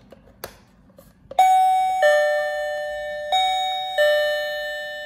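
An ATA 318C infrared sensor visitor doorbell chimes loudly and close after a couple of faint clicks, ringing four sustained bell tones in a row, each ringing on and overlapping the next, with no talk.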